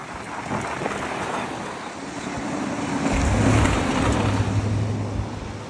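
Road traffic crossing an asphalt-paved wooden bridge on Sudbury Road with potholed surface, heard as a broad continuous rumble that swells as a vehicle nears around the middle, with some wind noise and no talk.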